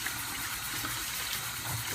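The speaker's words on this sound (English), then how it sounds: "The cabbage needs to at least be washed 2 to 3 times under running tap water." Cabbage being washed under a running kitchen tap, a steady close rush of flowing water splashing over the leaves throughout, with no speech.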